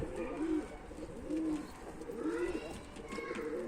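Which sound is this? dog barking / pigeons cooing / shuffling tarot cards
pigeons cooing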